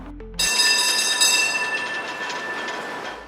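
An Odesa tram runs along its route with loud, steady metallic rolling and screeching wheel tones that hold at a constant pitch, close by and slowly easing.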